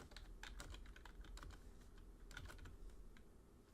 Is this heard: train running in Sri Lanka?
no